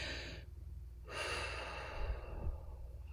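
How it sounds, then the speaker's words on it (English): A single big deep breath, a long inhale followed by a slow audible exhale close to the microphone, during a Reiki session, with no talking. "Big breath."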